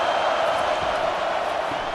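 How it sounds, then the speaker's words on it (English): Dense, steady roar of a stadium crowd on third down during an Arkansas Razorbacks vs. Notre Dame college football game, loud and continuous without breaks. "this crowd is tearing the lid off this place"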